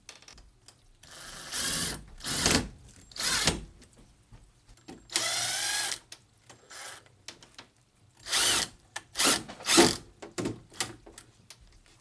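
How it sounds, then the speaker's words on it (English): A power drill drives screws into a basement closet in repeated short whirring bursts, close and fairly loud, with quiet pauses between runs and a few longer pulls where the motor pitch sweeps as each screw seats. "I'll screw that and screw this in"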